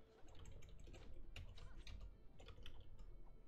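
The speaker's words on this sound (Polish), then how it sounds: "Troszkę za szybko klikam" Fast clicking while playing Shadow Fight 2, a fighting game on a device. Rapid, irregular light clicks sound quiet and close over a soft background.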